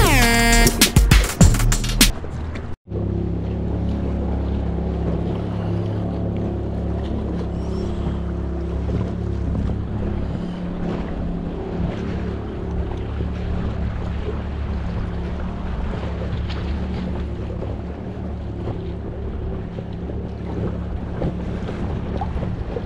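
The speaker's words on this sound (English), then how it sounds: "Not the calmest day to be out on this water in this little 10-foot boat." A small 10-foot West Marine boat runs through choppy water, its motor droning steadily with wind buffeting the microphone throughout and a brief clunk near the start.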